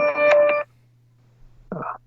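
A mobile phone gives off electronic tones during an online meeting: a short bright burst of beeps, a pause over a low steady hum, then a second shorter tone, close and clear with no talking.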